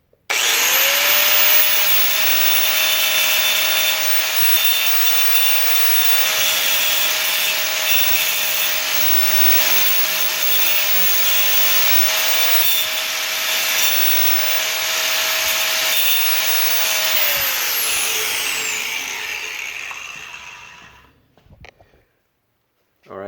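A power sander works near the door hinge of a 1978 Monte Carlo, a loud steady whining rub that holds for about eighteen seconds before spinning down and falling quiet.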